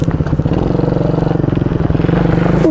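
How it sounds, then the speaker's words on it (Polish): A motorcycle is ridden nearby in first gear, laps on a yard, its engine chugging in a steady, pulsing rhythm with some clatter, loud and close throughout. "Jeździ na motorze."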